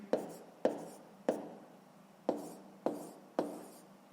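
A pen writes out a sixth-grade math answer on paper in a quiet room, with about seven sharp, close tapping strokes at irregular intervals.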